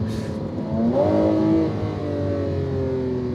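A Lamborghini Aventador Ultimae, the most powerful Aventador, all-wheel drive with rear-wheel steer, accelerating from inside the cabin with a loud engine tone that rises, shifts and keeps pulling steadily.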